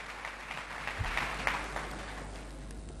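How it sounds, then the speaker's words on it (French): A hall audience applauds at a formal ceremony in the Democratic Republic of Congo, a steady wash of clapping from many hands that carries on for the whole few seconds. "est-ce qu'on peut applaudir une fois de plus pour ce mot qui vient de cet homme de cœur et d'engagement?"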